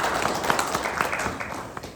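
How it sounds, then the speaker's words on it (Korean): Audience applause at a parents' meeting on student athletes, a brief burst of clapping with a few distinct hand claps standing out, fading slightly toward the end. "큰 박수 부탁드립니다."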